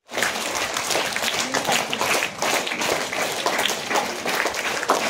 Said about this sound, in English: May we have a huge round of applause for all these students.